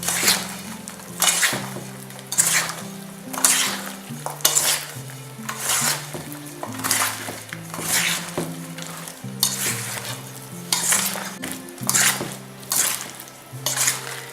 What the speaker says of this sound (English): you just mix it all together until the nuts are well coated